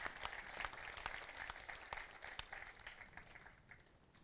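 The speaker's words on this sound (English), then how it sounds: "let's give them a round of applause" Crowd applause at an outdoor Memorial Day ceremony in Moreno Valley, a fairly faint, distant patter of many hands clapping steadily for about four seconds and slowly tapering off.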